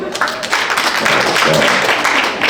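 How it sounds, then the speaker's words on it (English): A comedy club audience at a stand-up show claps and cheers for the single people in the room, a dense, loud burst of applause mixed with crowd voices. "Clap it up if you're single."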